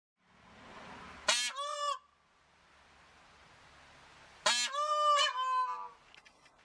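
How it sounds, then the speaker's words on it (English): Peacock calls twice, loud piercing honking cries with a harsh upward wail, separated by a quiet gap and heard alone. "Peacock."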